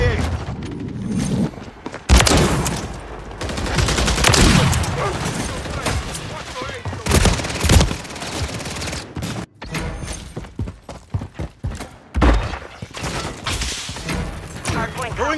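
Akimbo shotguns fire in a Modern Warfare 3 Hardpoint match, heavy booming blasts in bursts alongside other gunfire, explosions and game radio callouts, loud and chaotic throughout.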